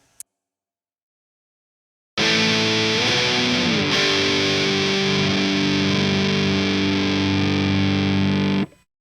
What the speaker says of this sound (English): I like the sound of this Carvin amp more with the EQs in the bottom setting